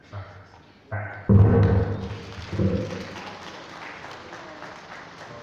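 An audience at a university research awards and grants ceremony applauds the chairperson. A few thumps come first, then clapping bursts in loudly and gradually fades.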